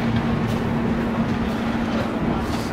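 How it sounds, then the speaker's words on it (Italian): Train arriving at St. Moritz station in snowy winter conditions, a steady close rumble with a low hum and faint squeaks, constant throughout without voices. "Nel frattempo è arrivato il nostro treno, che è questo qui."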